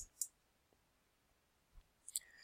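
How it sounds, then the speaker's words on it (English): A few sharp, quiet mouse clicks land at the start and near the end of an otherwise silent stretch, the last pair in quick succession as the Close button is pressed. "I'm going to click Close."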